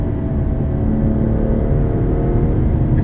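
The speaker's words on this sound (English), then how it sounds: "it sounds pretty impressive on the move as well" A 2017 BMW 2 Series Coupe engine under way, a loud, steady, close rumbling drone with a constant whir and no voices.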